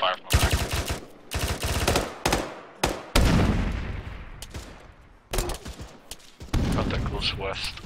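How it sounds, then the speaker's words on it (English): Heavy gunfire crackles from behind during a team mission, loud bursts of rapid automatic shots and single reports in clusters separated by brief gaps, with a distant rolling tail. "A lot of fire from the back."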